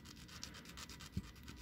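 A small rotary sander works a plastic model kit part, a Strike Exceed Galaxy Entry Grade build's leg piece, giving a faint, steady scratchy rubbing with a soft bump near the end.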